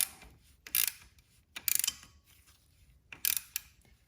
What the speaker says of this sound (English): Get it on that nut and tighten our filter.